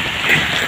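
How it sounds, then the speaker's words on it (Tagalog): Rain falling outdoors during a walk home, a dense steady hiss of drops heard briefly and fairly loud, with no voices. "Umuulan mga ka-idol"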